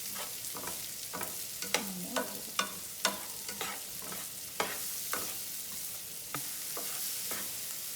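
Onions sautéing in a pan sizzle softly and steadily, punctuated by a regular series of light stirring scrapes and taps, quiet and close with no talking.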